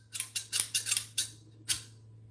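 Scissors snip and clack repeatedly at close range, a quick run of sharp metallic cuts followed by a pause and one final snip, with no talking.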